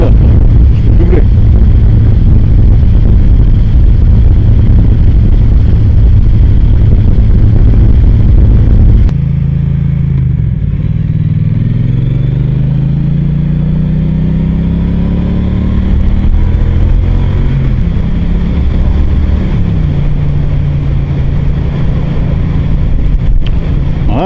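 A Triumph Street Cup motorcycle accelerates through third and fourth gear, its engine note climbing in rising sweeps after a gear change, heard close from the rider's position with heavy wind rush.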